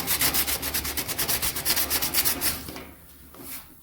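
Sandpaper scrubs by hand across a new steel car floor pan in a rapid, even back-and-forth rhythm of rasping strokes, loud and close, then stops and leaves quiet room tone.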